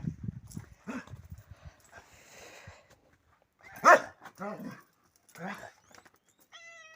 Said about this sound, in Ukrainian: Подивіться, як наша собака інтересна.